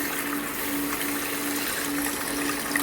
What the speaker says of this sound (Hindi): इसमें पानी शामिल करेंगे।